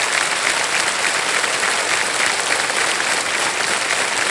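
Dense, sustained applause from the studio audience of Kaun Banega Crorepati, many hands clapping at an even, loud level for several seconds with no voices on top.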